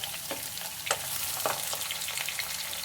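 Chopped onion sizzling in hot oil in a pan over high flame, a steady crackling fry with occasional stirring scrapes, close and alone.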